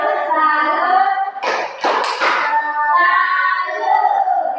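A class performs the 'tepuk salut' rhythmic clapping routine: voices chant in unison while a short cluster of sharp claps sounds midway, close and loud.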